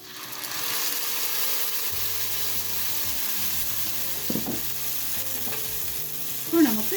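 Ground spicy red momo chutney poured into a pan sizzles and fries steadily while being stirred, with a few scraping clinks of the spoon near the end.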